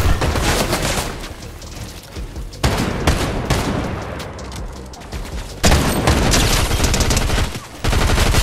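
Fortnite gunfire fills the clip with loud, dense bursts of automatic shooting and booming blasts, continuous with brief gaps between volleys.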